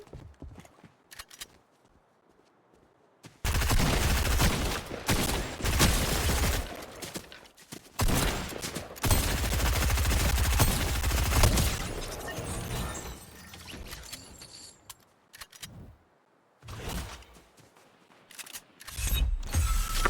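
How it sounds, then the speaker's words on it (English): Shotgun blasts from the video game Fortnite come in loud, heavy bursts separated by short pauses, with dense clattering action between the shots and no voices. "Great shotgun. I love the shotgun."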